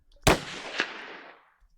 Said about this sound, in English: I'm going to play the gunshot completely raw and alone.